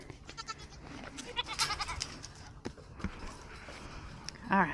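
Goats bleat in short, wavering cries amid hoof shuffling and farmyard movement, close and moderately loud, with a person talking intermittently.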